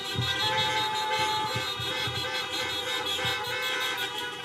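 Car horns honk together at a drive-in church service, a layered chorus of sustained and repeated toots from many vehicles in an open lot, blaring steadily throughout.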